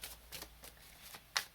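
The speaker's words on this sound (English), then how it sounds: "These cards are so new, and it's really hard to shuffle them" A brand-new deck of tarot cards being shuffled by hand, a few quiet papery riffles and slides in an uneven rhythm, ending with a sharper snap, recorded close in a quiet room.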